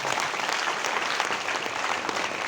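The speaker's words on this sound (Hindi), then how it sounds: "एक बार मुकेश जी के लिए भी तालियां बजा देंगे आप" Audience applause at a gathering, a steady, even patter of many hands clapping at moderate volume throughout, with no voices standing out.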